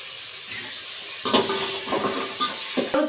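Green chilies, ginger-garlic paste and curry leaves hit hot oil in a pan with a loud sudden sizzle, then keep frying with a steady hiss and occasional stirring clinks.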